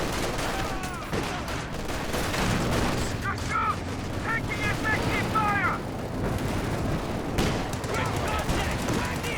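Anti-tank gun fire and other weapon blasts from a Company of Heroes 2 battle, where a Panzer IV faces a T-34. Dense bursts of gunfire rattle steadily throughout while a voice commentates over the fighting.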